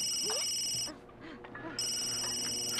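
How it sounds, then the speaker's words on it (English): Phone ringing in The Sims 3: an electronic ring that sounds in two bursts with a short gap between, mixed with chirpy game sounds and background music. "Someone, answer their phone!"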